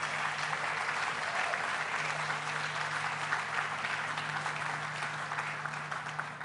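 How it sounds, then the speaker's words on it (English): Sustained audience applause at the Tribeca Festival, a dense, steady wash of many hands clapping that holds evenly throughout at a moderate distance. "Let's give her a big round of applause"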